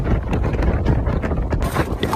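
Gusty monsoon wind on Girnar near Junagadh rushes and buffets the microphone in a steady, loud broadband roar, with no talking.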